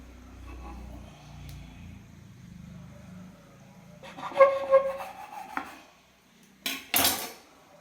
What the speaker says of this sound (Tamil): நைஃப் வச்சு லைட்டாக இதை இந்த மாதிரி குறுக்க கட் பண்ணிக்கலாம்.